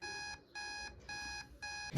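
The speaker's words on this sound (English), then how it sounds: "I set a 25-minute timer" A 25-minute study timer alarm goes off as four bright, evenly spaced electronic beep bursts, each about a third of a second, loud and close, with a brief thump at the very end.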